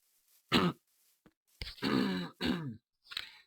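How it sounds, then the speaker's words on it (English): Someone clears their throat several times in quick, rough bursts, close and fairly loud, with short pauses between. "I'm really sorry if you just heard me clear my throat."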